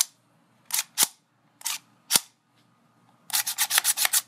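The bolt of a Robinson Armament XCR-L airsoft rifle is worked by hand in close, crisp metallic clacks and slides, first a few separate strokes, then a quick run of rapid clicks.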